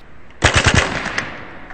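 Hatsan Blitz full-auto .30 caliber air rifle firing a quick burst of about five rapid shots at soda cans outdoors, loud and close, followed by fading impact noise.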